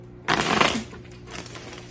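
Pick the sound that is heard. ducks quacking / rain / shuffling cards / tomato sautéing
shuffling cards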